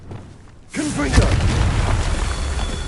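Confringo, an explosive fire spell in Hogwarts Legacy, goes off as one loud, booming blast that rolls straight into a sustained roar of fire and crackle.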